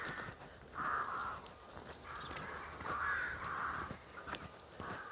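Several harsh crow caws ring out in bursts, some overlapping, against a quiet outdoor background in a woodland cemetery.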